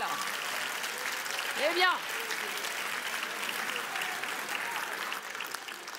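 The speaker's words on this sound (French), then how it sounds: "Applaudissements général." Audience at a French speaking-contest final applauding steadily throughout, a brief word and a rising voice-like tone poking through near the start.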